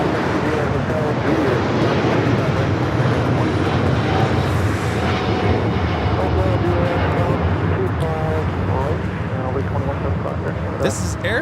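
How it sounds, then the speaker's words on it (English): An Air Premia Boeing 787-9 Dreamliner takes off at LAX with a loud, continuous engine roar that holds for the whole stretch. A voice talks over it. "This is Air Premia 102 taking off to Seoul on the 787-9 Dreamliner"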